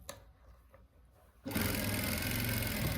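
A sewing machine stitches a pocket onto a garment, starting abruptly after a quiet moment and running loud and steady at close range to the end.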